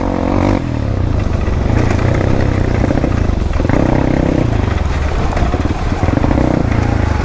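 Loud dirt bike engine running continuously, clattering and revving up and down as it rides downhill on a rough, risky road, close by, with no talking.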